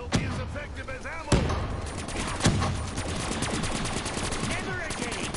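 Sustained rapid gunfire in an online zombies shooter game, fired out a window, with dense overlapping shots, a few louder blasts standing out, and faint voices and game sounds mixed underneath.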